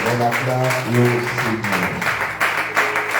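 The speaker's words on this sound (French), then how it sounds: "On acclame le Seigneur" A church congregation applauding the Lord during a worship service, a dense, steady wash of clapping with voices singing and calling out over it.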